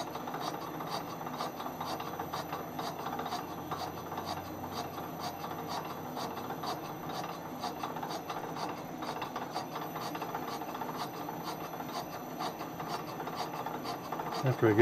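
Steady, continuous rasping of a lathe tool boring a Suzuki TC90 motorcycle cylinder, an even grinding drone with a rhythmic pulsing texture, close and fairly loud with no talking.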